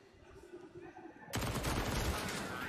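Rapid automatic gunfire from a Counter-Strike match on the Dust2 map bursts in loudly after a quieter stretch of faint game ambience and continues as a dense, sustained volley.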